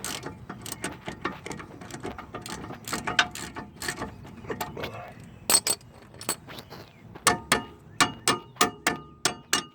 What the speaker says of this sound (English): Get your socket on your other bolt. Now loosen them up like so.